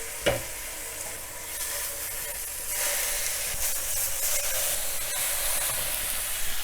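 Beef short ribs searing in a roasting tray give a steady, broad sizzle and hiss that swells louder partway through, with a few sharp crackles and pops, close and with no voices.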